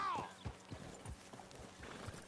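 Horse hooves clip-clop at a steady trotting rhythm in the Western video game Red Dead Redemption II, close and fairly loud, with a brief whinny-like call at the start and a voice murmuring underneath.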